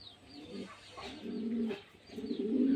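Racer pigeons cooing nearby, low throaty coos rising and falling in two or three phrases, fairly faint against quiet background.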